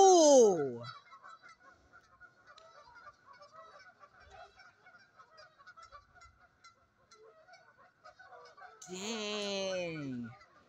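Loud, harsh goose honks from fighting geese blare at the start and again near the end, with softer chattering calls and scuffling between them.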